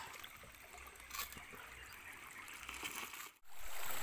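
River water trickles steadily while people catch river crabs, a soft continuous babble close by that cuts out briefly near the end.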